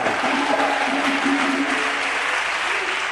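A church congregation cheers and applauds for Jesus Christ, a dense, steady roar of clapping and voices that fills the space at full volume from start to finish.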